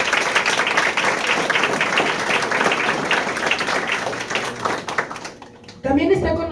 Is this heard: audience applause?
yes